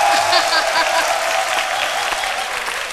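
Audience applause for a former rapper turned bishop, on a French-language midday TV show; dense, steady clapping fills the whole stretch at a fairly loud level.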